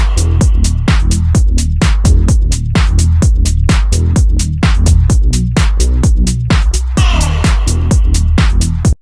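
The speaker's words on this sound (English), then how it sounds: "Here's the bass I'm going to show you how to make today." Serum 2 synth bass recreating a track: a loud, steady stream of punchy plucked bass notes in a driving rhythm, each with a sharp attack and quick falling tail, heard alone.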